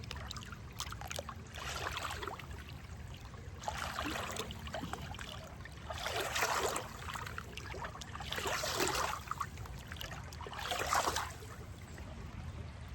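Cold creek water trickling and splashing steadily nearby, with brief louder bursts of flow and splashing every couple of seconds, no voices.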